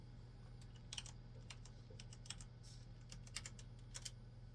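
Quick, light keystrokes tap out numbers on a keyboard in a steady patter over a low constant hum, close but quiet, with no voices.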